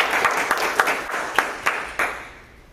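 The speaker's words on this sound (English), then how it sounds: "could we have a huge round of applause" Applause at a Drupal 8 conference talk, a crowd clapping at moderate level with a few sharper individual claps standing out, tapering off over under three seconds.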